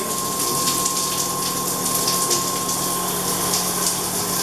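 Steady, dense rushing of water from a campground shower spray at Mount Rogers Recreation Area, loud and constant with a faint high tone running underneath.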